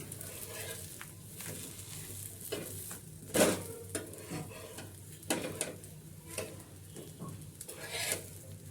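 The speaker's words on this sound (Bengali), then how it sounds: "এই পিঠটা একটু হালকা করে ভেজে নেব," Dosa batter frying on a hot pan in a home kitchen during Ganesh Puja cooking, a soft steady sizzle with occasional scraping and stirring clinks, close and moderately quiet with no talk.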